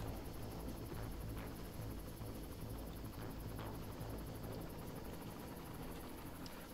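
Constant, dense rotor drone of a helicopter arriving in the video game Far Cry, filling the scene at steady loudness without any voices.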